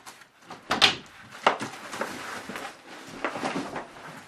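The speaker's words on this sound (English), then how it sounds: "Okay, guys, the package is at the door." A front door opening to take in a package delivery, with a few knocking and rattling handling sounds at close range and a short thump around the middle, set against a quiet room.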